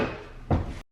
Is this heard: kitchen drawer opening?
yes